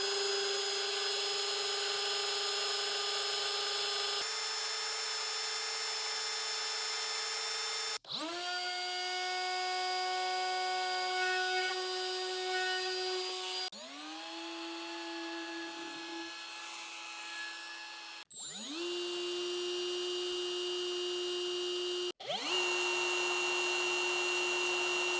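Cordless die grinders, including Bosch and Snap-on models, run one after another at maximum RPM, each spinning up into a loud piercing whine that holds steady before stopping, with short gaps between tools.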